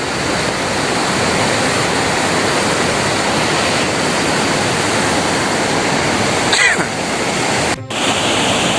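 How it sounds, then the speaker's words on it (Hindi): A fast-flowing mountain stream on the Kedarnath trek roars as a loud, continuous broadband rush of water, close and unbroken, with a brief knock near the end. "पानी का धारा तो बहुत तेज है।"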